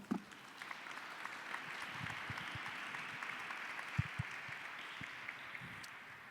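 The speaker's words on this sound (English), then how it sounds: "Please give a round of applause for our esteemed panel." Sustained audience applause fills the room steadily for several seconds, a dense wash of clapping with a few louder claps standing out.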